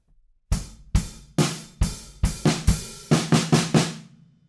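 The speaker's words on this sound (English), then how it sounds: "So it's just 8th notes, and then a little 16th note fill on the snare at the end." Drum build-up of steady eighth-note hits, ending in a quick sixteenth-note fill on the snare, punchy and close with no talking.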